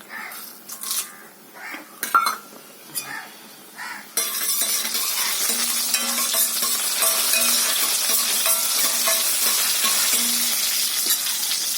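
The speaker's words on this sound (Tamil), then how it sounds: "கடுகும் காஞ்சமெல்லாம் சேர்ந்து ஒன்று போல் அப்படி பொரிவடட்டும்" Mustard seeds and dried chillies frying in oil in a silver (steel) pan, first a few scattered crackles and pops, then a loud continuous sizzle with fine spattering that carries on to the end.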